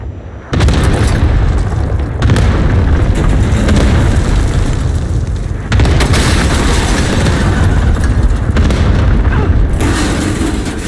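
Cluster strike explosions in a battle royale shooter video game, a sustained barrage of loud, deep booms rolling continuously and swelling into fresh heavy bursts every few seconds.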